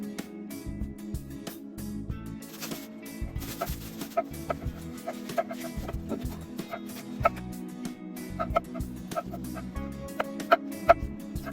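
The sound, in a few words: chickens clucking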